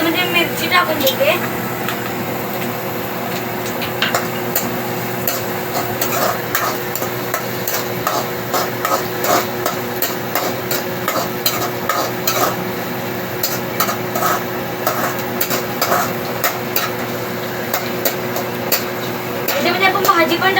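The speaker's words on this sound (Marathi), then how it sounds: "थोडासा कांदा ब्राऊन झाला त्याच्यामध्ये मिरची टाकून देते।" Onion and green chili frying in a pan for a drumstick vegetable dish, a steady sizzle with repeated spatula scrapes and taps on the pan, heard close.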